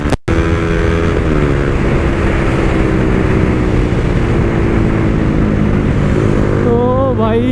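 An N160 motorcycle revs hard during a short street drag race, a loud, steady engine drone with rising pitch sweeps toward the end, close by and mostly alone after a brief dropout at the start.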